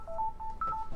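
A telephone keypad beeps out a string of short dialing tones for a call, around five quick beeps in an uneven rhythm, close and fairly clear, with no talking.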